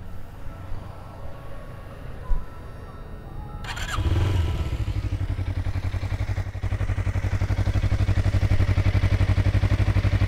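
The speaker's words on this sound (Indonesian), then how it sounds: "Dan ini posisi suara pakai DB killer" Suzuki Inazuma 250cc motorcycle fitted with a 3Tech Evox exhaust and dB killer, starting up and then idling steadily at close range, a low, even thrumming pulse after a brief clatter and no talk.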